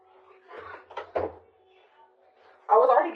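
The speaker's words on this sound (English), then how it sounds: "I'm going to have to close my door" A household door swings shut with a firm thump near the end, preceded by faint handling sounds and brief bumps, with muffled voices in the background.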